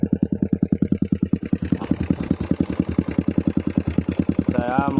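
A Yamaha Jupiter MX motorcycle engine fitted with a CPO carburetor, running rough as if starved of fuel, gives a loud, steady, rapid pulsing putter close by, with a brief whine near the end.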